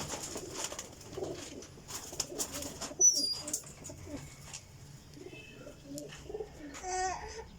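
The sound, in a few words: golden teddy pigeons cooing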